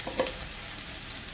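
Finely chopped garlic sizzling in hot oil, a faint, soft crackle and hiss with a few small pops, brief and quiet with no voices.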